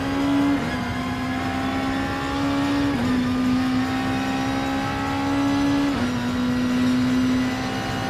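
Race car engine in Gran Turismo Sport during an All Japan GT Championship event, a steady high whine that climbs in pitch, drops abruptly at two gear shifts and climbs again, heard alone.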